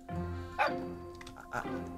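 A dog in the Minecraft video game gives a few short bow-wow barks and yips, close and moderately loud, spread across a couple of seconds of otherwise quiet game sound.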